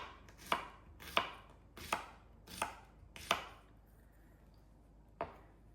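A knife chops through okra on a cutting board, six sharp cuts spaced about half a second apart with a short pause before the last, close and clear with no talking.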